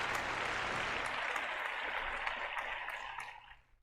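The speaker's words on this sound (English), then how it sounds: "And a big round of applause for Merlin." Applause for a guest on a paranormal talk program, dense and fairly quiet, holding steady before tapering off toward the end.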